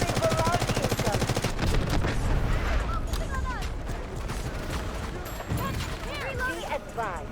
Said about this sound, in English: We're taking so much fire from basically every direction.